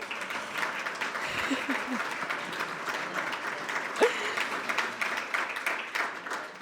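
An audience applauds at an awards ceremony after a group's performance, a steady wash of clapping that carries on throughout, with a few voices briefly audible beneath it.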